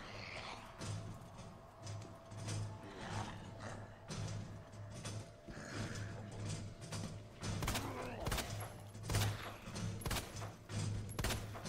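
Gunshots fired at a zombie in Resident Evil 2 Remake land as a series of sharp cracks spread irregularly among mechanical clanks and thuds, loudest toward the end, with no talking.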